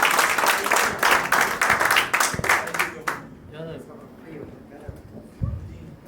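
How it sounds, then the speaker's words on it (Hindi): Loud, dense clapping from a live audience at a comedy poetry show fills the first three seconds, then breaks off abruptly, leaving a few faint stray claps and murmurs. "दोस्तों, जोरदार तालियां"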